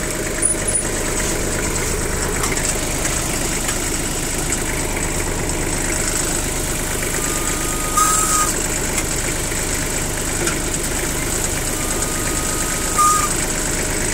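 A small Japanese cab tractor engine runs steadily at idle with a constant rumbling chug and a faint mechanical rattle, close by and unchanging throughout.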